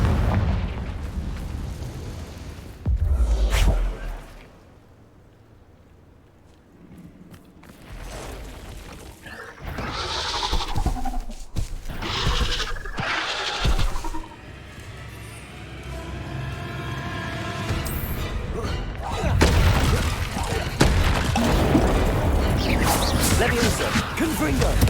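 Confringo blasting spell explosions in Hogwarts Legacy go off as repeated heavy booms and crashes amid battle noise, while a voice speaks between the blasts.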